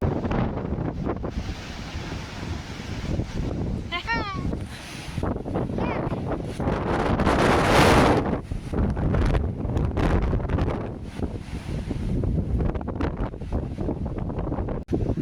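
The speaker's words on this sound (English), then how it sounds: "It's the 4th of April and it's still windy and stormy and crappy." Strong, gusty storm wind roars and buffets across the microphone outdoors, swelling into louder gusts and never letting up, with no talking over it.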